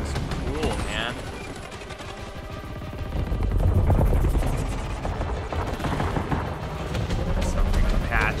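Apache attack helicopters thunder through a dense battlefield soundscape in a Battlefield 2042 trailer, with rotor roar blended among rolling gunfire, explosions and booms, loud and continuous, while a voice comes and goes underneath.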